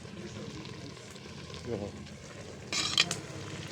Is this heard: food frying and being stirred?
yes